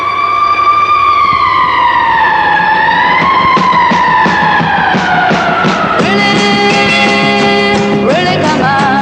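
A loud, close siren wails in long rising and falling sweeps, then shifts to a faster two-tone pattern near the end, filling the whole stretch.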